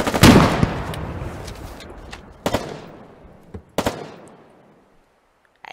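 Gunfire in the video game Foxhole, a sharp opening volley with rapid shots that decays, followed by several isolated loud bursts spaced a second or so apart, trailing into quiet.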